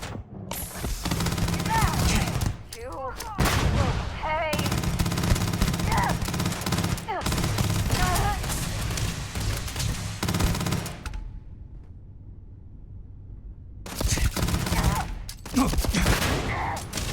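Sustained bursts of automatic gunfire in the modded space game Starfield during a ship boarding, loud dense volleys broken by short pauses, with a quiet stretch in the middle before firing resumes, voices audible between shots.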